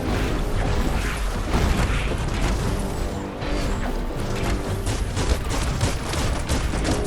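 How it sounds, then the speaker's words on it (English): Gunfire in the video game Biomutant on extreme difficulty, dense continuous bursts of shots and impacts with crashing and booming mechanical effects, loud and close throughout. "Bullets everywhere."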